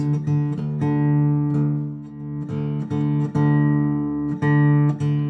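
A guitar string plucked repeatedly and left ringing, its pitch shifting slightly between strikes as the 6th string is tuned down to drop D against the 4th string, with steady low chord tones underneath.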